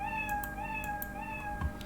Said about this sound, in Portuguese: o miau é um dos sons mais altos básicos do Scratch